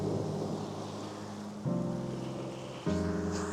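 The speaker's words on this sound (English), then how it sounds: "the waves are going a bit crazy there" Rough ocean waves wash and surge along the shore at Botany Bay, a steady broadband roar punctuated by two louder swells, with a low droning hum beneath and no one speaking.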